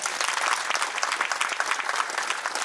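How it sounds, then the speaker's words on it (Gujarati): Warm, dense applause from an audience at a gathering of saints marking a guru's death anniversary, steady and sustained throughout with no talking over it. "એના નામની તાળી વગાડે"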